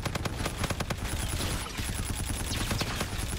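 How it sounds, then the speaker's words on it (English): Sustained gunfire in the shooter game Battlefield 2042, with dense overlapping automatic bursts and scattered shots running continuously at steady loudness and no talking. "He was shooting the whole time?"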